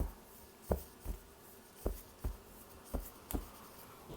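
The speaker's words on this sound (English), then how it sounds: "Shuffle, shuffle." Tarot cards being shuffled, quiet papery riffles and taps arriving in irregular short bursts, about seven soft slaps spread across a few seconds in a hushed room.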